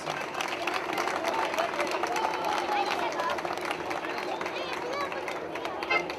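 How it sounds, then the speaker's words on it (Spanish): A festival concert audience at the 2017 Mutiloa town fiesta claps and cheers in a dense, steady wash of applause, with shouting and chattering voices mixed throughout. "¡Fuertísimos aplausos!"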